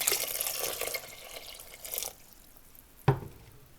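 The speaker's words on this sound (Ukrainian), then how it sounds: "І ще трошки водички добавлю." Water from a tap pours into a pot holding hibiscus tea for dyeing eggs, a steady close splashing stream for about two seconds, then quiet and a single sharp drip or clink.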